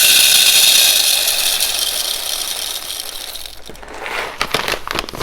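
Brazilian coffee beans are ground fine for a double espresso shot: a loud, steady, close whirring grind that runs for several seconds, then stops and leaves a few rattles and clicks.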